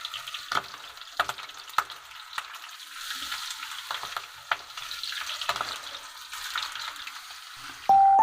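Chicken feet fry in hot oil, crackling and sizzling close by with intermittent stirring clatter from a utensil and a brief clink near the end.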